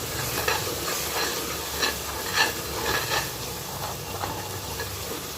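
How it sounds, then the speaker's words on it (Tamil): Masala ingredients for beef biryani sautéed in a pan, a close, steady sizzle with continuous stirring scrapes and occasional spatula knocks. "இது எல்லாத்தையும் சேர்த்து இப்போ நல்லா வதக்கிட்டுருக்கோம்"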